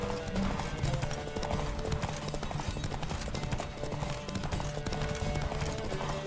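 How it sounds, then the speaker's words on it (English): Hoofbeats of a galloping horse in The Witcher 3 drum steadily and close, set against a dense game soundtrack with sustained music tones. "Don't spare the horse."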